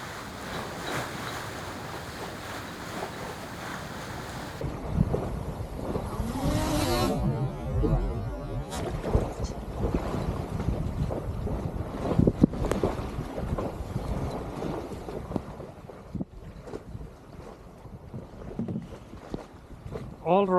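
A 45ft heavy cruising sailboat under sail in solo conditions, with steady wind rush and sloshing waves against the hull, loud and continuous throughout with gusty microphone buffeting.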